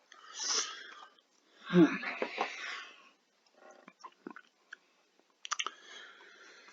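Someone biting into and chewing juicy coleslaw close up, with wet crunches and mouth sounds in several short bursts separated by pauses.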